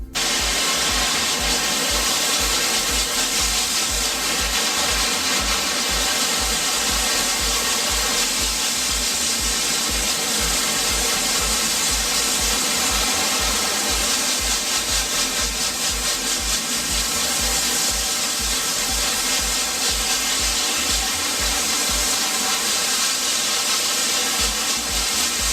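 Water spraying steadily onto a screen printing screen at a washout booth, a loud continuous hiss with a low steady hum underneath, unbroken for the whole stretch.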